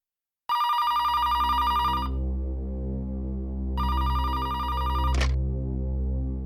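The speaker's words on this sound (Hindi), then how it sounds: "फोन उठाना है प्लीज।" A telephone in a police bureau office rings in two long electronic bursts separated by a pause, loud and close, over a steady low hum.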